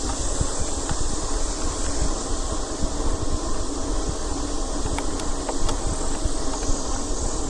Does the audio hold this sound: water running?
no